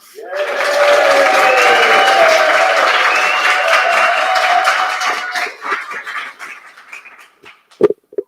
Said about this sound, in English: I told them they can clap, boo, or hiss at this one moment here, so we'll let them have it now.